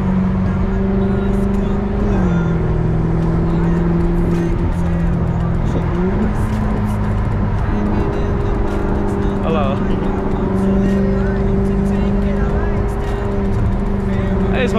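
A convertible's engine hums while driving, a steady low drone that shifts pitch as it changes gear, with people chatting over it throughout.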